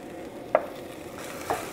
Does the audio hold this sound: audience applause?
no